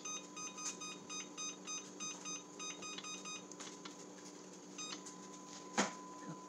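A kitchen oven timer being set gives a run of short, evenly spaced electronic beeps, fairly faint in a quiet room, followed by a longer tone and a brief clatter.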